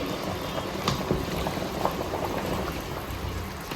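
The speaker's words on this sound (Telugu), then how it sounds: "సో చూడండి 15 minutes నుంచి మంచిగా ఉడుకుతుంది" Mutton paya simmers in a pot on a stove at full flame, giving a soft, steady bubbling that stays low and even throughout.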